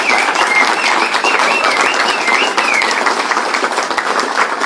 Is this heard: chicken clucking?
no